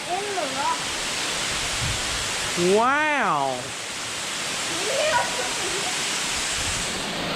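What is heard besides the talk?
waterfall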